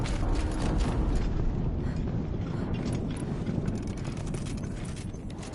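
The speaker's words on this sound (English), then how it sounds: "Explosion." A rumbling explosion in the video game Horizon Zero Dawn, a dense low roar with crackling debris that slowly fades over several seconds, at moderate loudness with no voices.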